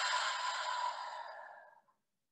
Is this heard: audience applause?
no